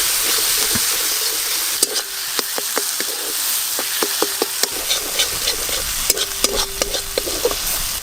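Cumin, coriander, chilli and turmeric powders fry in oil in a pan, a close sizzle broken by repeated sharp scrapes and clicks of a spatula stirring through it, no voices.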